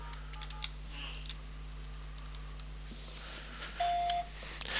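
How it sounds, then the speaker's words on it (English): A phone dialing *77 gives a single clear electronic keypad tone lasting about half a second. It sits among faint clicks over a low, steady hum in a quiet room. "So what we will do is dial *77 on the phone,"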